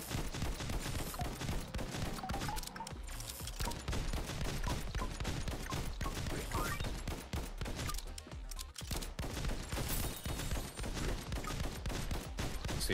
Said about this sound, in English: my special ability is just this gun blast